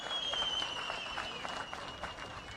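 Audience applause at a political address by the chief minister, a steady dense patter of clapping from a crowd that fills the whole stretch with a faint tonal whine running through it.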